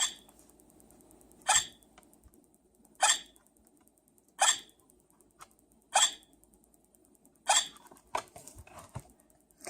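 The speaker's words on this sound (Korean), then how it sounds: "갑자기 아기가 연거푸 딸꾹질을 해요" A baby hiccups repeatedly, six short, sharp hiccups spaced evenly about a second and a half apart against a quiet background.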